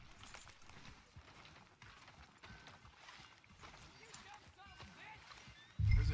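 Horse hooves clip-clop at a steady walking rhythm in Red Dead Redemption 2, mid-distance and moderately faint, mixed with creaking tack and soft background voices, ending in a sudden loud low thump.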